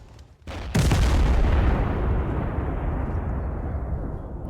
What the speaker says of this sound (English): I'm just gonna lay down fire on him